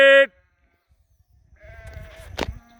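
A flock of sheep on a farm, gathered for ram lamb banding, with a brief sharp bleat at the start, a pause, then several overlapping bleats and rustling movement building nearby toward the end.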